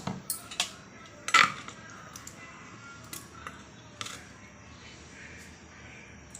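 Tomato thokku is mashed in a dal-churning pan, giving a few scattered soft knocks and scrapes against a quiet background, close but faint.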